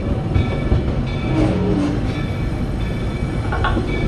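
The Magic Kingdom Railroad steam train at Walt Disney World rolls into Main Street Station, a low rumbling run with a few faint clanks and creaks over steady rolling noise.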